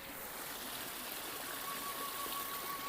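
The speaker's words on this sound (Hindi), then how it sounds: "ये माँ मंदाकिनी नदी का जो झरना है और उसका जो जल है, ये देखिए किस तरीके से यहाँ पर कल कल कर बहता हुआ" The waterfall on the Mandakini river rushes and gurgles in a steady, dense wash, close and continuous, with no voices.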